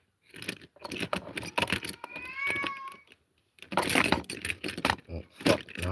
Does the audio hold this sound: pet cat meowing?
yes